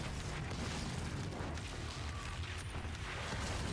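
A loud, dense explosive boom from a demo of an alien shooter game with infested alien enemies as a head explodes, a continuous roaring burst filling the whole stretch with rumbling low end and crackle.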